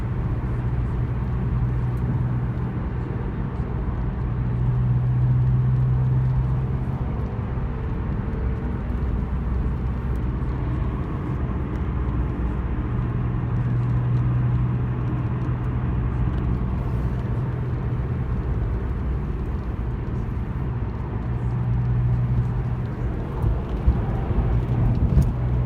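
A Porsche 911 993 cruises along a road with a steady, moderately loud engine drone and tyre rumble from inside the cabin, swelling gently at times.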